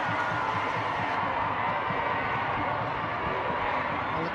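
A netball crowd cheering on the Sunshine Girls at the Netball World Cup, a dense, steady roar of a large arena audience on its feet, loud and continuous throughout.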